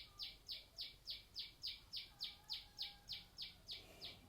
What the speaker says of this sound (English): I just want you to listen to the bird here.